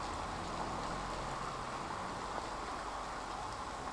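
Rain falling in Guajará-Mirim, Rondônia, a soft, steady hiss with no break, heard at low level from a distance.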